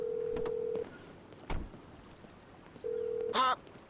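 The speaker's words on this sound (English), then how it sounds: "the next phone call is to Jimmy." Phone dialing in Grand Theft Auto V: a steady dial tone sounds, breaks off, then returns before a short burst of rapid keypad tones, with a faint thud between.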